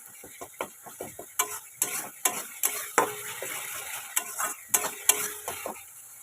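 Spice masala for a cabbage and egg curry is stir-fried in a pan, with sharp clinks and scrapes of a spoon against the metal in an irregular rhythm over a soft sizzle, with no talk.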